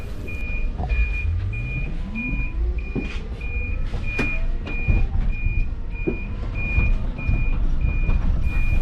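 A Soléa C7 city bus pulling away from the terminus, its engine rumbling low and steady up close while a rhythmic electronic beep repeats steadily throughout.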